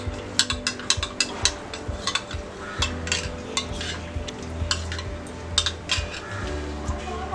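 A spoon stirring cornflour into chicken stock in a pot, scraping and clinking against the metal in irregular strokes, close and fairly loud with no talk.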